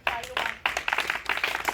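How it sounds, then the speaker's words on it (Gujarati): A small group clapping in quick, uneven bursts outdoors for the winner of a hop-with-tied-legs challenge, close and fairly loud, with brief pauses between rounds. "તાળીઓ પાડો"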